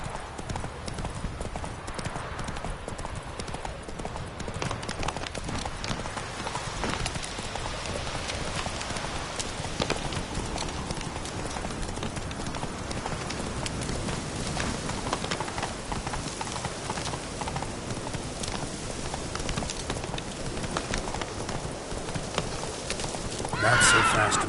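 Roach the horse gallops in The Witcher 3 with steady, continuous clip-clop hoofbeats. A few whinnies and neighs rise over the rhythm, and a sharper burst comes at the very end.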